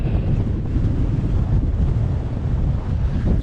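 Strong wind buffets the microphone during a paragliding session as a sea breeze overpowers a northerly, producing a loud, continuous low roar with steady gusting and no voices.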